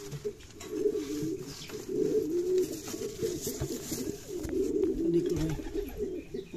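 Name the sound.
fancy pigeons cooing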